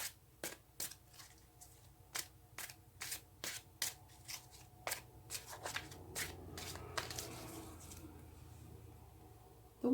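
Tarot cards are shuffled by hand up close: a quiet run of about a dozen crisp riffling snaps at an even pace, followed by a looser flurry of card handling, with no voices.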